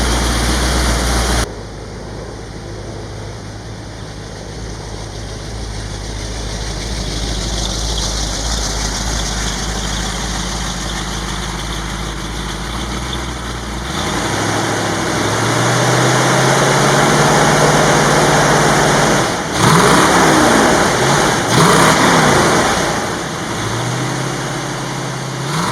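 1993 Ford F-350 4x4 with a rebuilt 460 V8 and exhaust leaks, idling with a steady low rumble, then revving up several times in loud swelling bursts before settling back.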